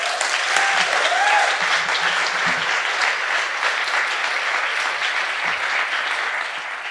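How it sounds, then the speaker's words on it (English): An audience at an evening of international poetry claps for poet Canisia Lubrin, a thick continuous round of applause with faint voices early on, gradually tapering near the end. "One more round of applause for Canisia Lubrin, everyone"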